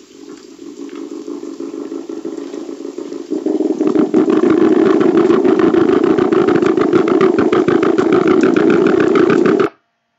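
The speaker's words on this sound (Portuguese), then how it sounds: "a gente então tem um cardume de Prochilodus argentius vocalizando na natureza" A school of Prochilodus argentius fish calls in the wild, forming a steady low drone like an idling engine that swells louder and denser after a few seconds and stays continuous, with no talking.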